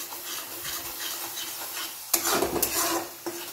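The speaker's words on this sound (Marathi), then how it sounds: "आधी तेलात टाकल्यानंतर व्यवस्थित मिक्स करून घ्यायचं आहे याला।" A ground spice paste fries in oil and gets stirred, producing a soft sizzle and then a burst of louder scraping and clattering from the spoon against the pan, with a few sharp knocks near the end.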